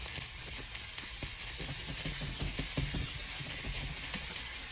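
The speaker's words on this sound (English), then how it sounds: "Zucchini's frying away nicely" Sliced zucchini with onions, drizzled in olive oil, fry in a hot pan with a steady close hiss and scattered crackling pops, no talking.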